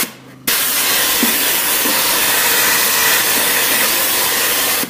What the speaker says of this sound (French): j'ai tout aspiré avec un aspirateur pneumatique